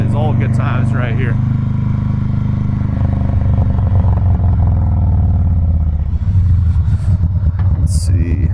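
2017 Harley-Davidson Softail Breakout engine rumbling steadily underway, loud and close, with someone talking over it throughout.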